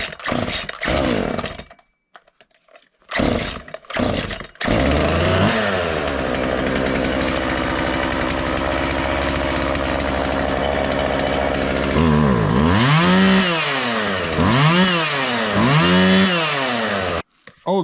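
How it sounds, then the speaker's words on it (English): A chainsaw sputters through a few short starts, then catches and runs loudly at idle before revving up and down repeatedly. "And this is my main chainsaw."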